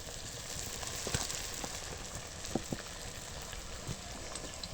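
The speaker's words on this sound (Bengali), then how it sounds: "দেখো কত সুন্দর ভাজা হচ্ছে, একদম মচমচে করে লাল লাল করে ভেজে নেব।" Cauliflower manchurian pieces fry in hot oil with a steady, close sizzle, broken by scattered sharp crackles and pops throughout.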